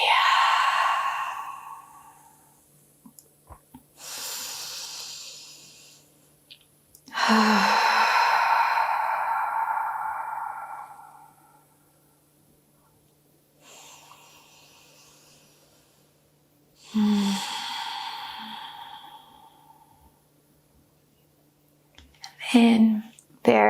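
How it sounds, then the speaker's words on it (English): Slow, deep breaths during a gentle pregnancy yoga flow: long audible exhales and inhales come in several separated waves, close and fairly loud, with quiet gaps between them. "Breathe."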